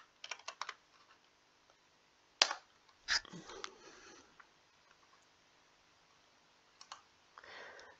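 Keys tapped on a computer keyboard in short irregular bursts and single clicks, close but soft, separated by quiet gaps.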